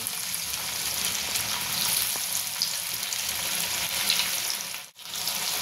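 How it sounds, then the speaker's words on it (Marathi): Fresh Bombay duck fish (bombil) deep fries in hot oil, giving a steady, dense hiss that dips sharply for a moment near the end before resuming, with no voices. "आता हे बोंबील मी डीप फ्राय करून घेत आहे।"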